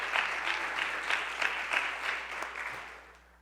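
An audience at a public event with the New Jersey governor in Paterson claps in a sustained round of applause, fairly close and even, with occasional louder bursts before it slowly tapers toward the end.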